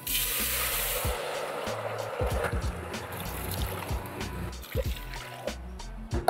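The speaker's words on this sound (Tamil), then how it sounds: "அஞ்சு டம்ளர் தண்ணி ஊற்றிருக்கேன்" Water pours and splashes into a pot holding rice and urad dal with garlic, a steady liquid rush with small clunks of the tumbler against the pot, heard close with a voice talking over it.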